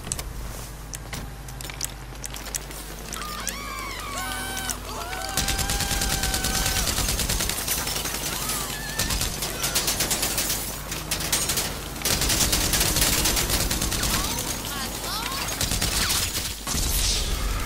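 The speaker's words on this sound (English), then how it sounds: "I was shooting that dude on the fucking gun." Gunfire in the video game GTA 5 Online: dense, sustained automatic bursts and rapid shots layered with game effects, loud and continuous over most of the stretch.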